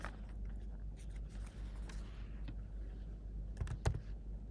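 Quiet, irregular keystrokes on a computer keyboard as a command is typed into a terminal, sparse clicks over low background hum with a slightly louder cluster near the end.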